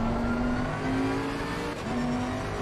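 McLaren and Ferrari race cars in a GT racing game at Spa, with a steady, loud engine drone that holds a sustained pitch and shifts briefly as the cars pass, with no talking.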